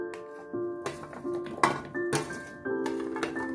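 Chopped vegetables are scraped and tipped from one metal vessel into another, giving clattery clinks and ringing metallic scrapes in short bursts, close and fairly clear.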